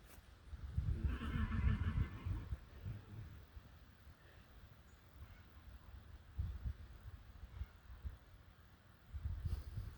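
A draft horse neighs loudly near the start, followed by quieter snorts and shuffling, with another short whinny near the end.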